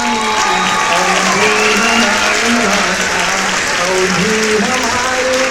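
Audience at an Awadhi-language poetry recital breaks into steady, loud applause that fills the room and holds without pause from start to finish.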